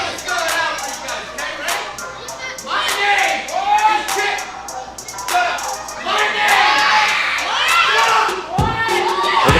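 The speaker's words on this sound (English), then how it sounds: "And the crowd giving it to Jimmy James." Wrestling crowd at a ProSouth Wrestling event jeering and shouting at Jimmy James, a loud, continuous roar of many voices with rising swells of boos and yells throughout, commentary voices mixed in.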